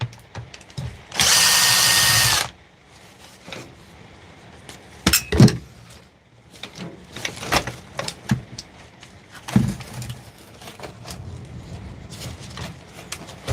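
A power drill unscrews fasteners from a Dewalt nailer under repair: one loud, steady whirring burst of about a second and a half, followed by scattered clicks, clatter and handling knocks.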